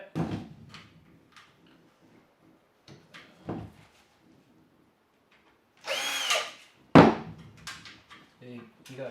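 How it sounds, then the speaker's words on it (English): Hand tool work on the drain hose cover of a Samsung washing machine: screws being undone with a screwdriver, giving short scraping and rattling bursts between quiet gaps, close by, with a few brief spoken words. "I'm going to go ahead and grab my screwdriver and just go quickly undo that."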